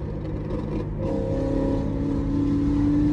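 A GMC Syclone engine hums steadily as the truck rounds a corner at a cars and coffee meet, a smooth close drone rising slightly in pitch with no talking.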